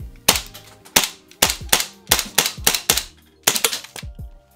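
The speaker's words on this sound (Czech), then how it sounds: "Pojďme vyzkoušet, jestli střílí." An airsoft pistol fires about ten sharp, loud snapping shots in an irregular rapid sequence, each with a brief metallic ring.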